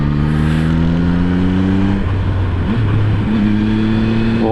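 A motorbike engine climbs a snowy mountain road in the Swiss Alps, its steady mid-pitched drone rising and dropping through gear changes, close and loud with no talking.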